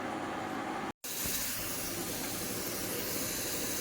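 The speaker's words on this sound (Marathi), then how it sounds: "त्यानंतर कुकरची फक्त पहिली शिट्टी झालेली आहे" A pressure cooker on the stove lets off its first whistle, a loud continuous hiss of escaping steam that cuts out briefly, then surges back and keeps blasting steadily.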